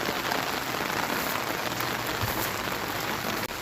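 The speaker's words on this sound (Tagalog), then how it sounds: "And it's raining, men. It's raining, guys" Heavy rain pours steadily on a Saturday morning in the Philippines, a dense, continuous loud hiss of drops on surfaces with no talking.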